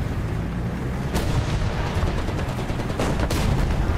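Sustained gunfire from a rocket launcher in the War Thunder combat game, steady and loud, with sharper bursts near 1.2 and 3.3 seconds as the magazine is shot empty.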